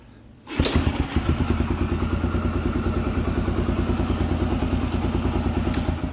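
A Yamaha YBR 125 motorcycle engine catches after a kick start, then settles at once into a steady, close, thumping single-cylinder idle that runs loud and even.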